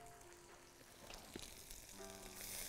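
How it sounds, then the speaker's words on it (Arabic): Garlic and fresh ginger sizzle in hot oil on a stovetop, a soft crackling fry that builds slightly louder toward the end. "الاول الزيت، حطيناه على النار، هنزل عليه دلوقتي الثوم"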